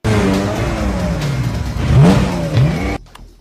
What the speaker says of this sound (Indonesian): Dan beberapa mobil mewah pun langsung tancap gas.